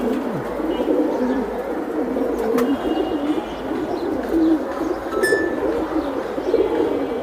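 Silver Giribaz pigeons coo in a steady, murmuring chorus of low rolling calls, close by, with a few faint chirps and clinks mixed in and no clear speech.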